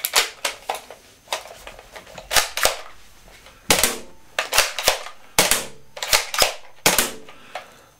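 Toy dart blaster fired indoors in a child's bedroom, a fast series of sharp snapping shots, some in quick pairs, close and loud with brief mechanical clatter between them.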